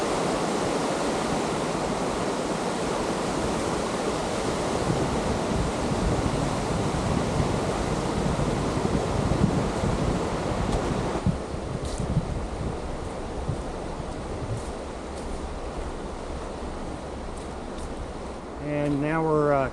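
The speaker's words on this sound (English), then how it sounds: "it just crosses a little stream coming in down off the mountain, flowing into the Ocoee." A small mountain stream crossing a forest trail in Cherokee National Forest, Tennessee, flowing toward the Ocoee River, with a steady broadband rushing of water heard close and continuous throughout.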